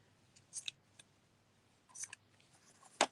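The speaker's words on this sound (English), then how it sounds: "And then I'm going to cut my trim" Scissors snipping ribbon trim while crafting a 3D ribbon gift box, a few quiet, close, separate crisp snips spaced over a few seconds in an otherwise hushed room, no talk.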